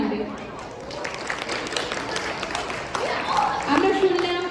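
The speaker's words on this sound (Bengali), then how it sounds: "করতালির মাধ্যমে সেটা জানান আমাদের।" Audience applause at a Bengali cultural stage program after a Rabindra song performance, a steady dense wash of clapping sustained throughout with some brief vocal sounds near the end.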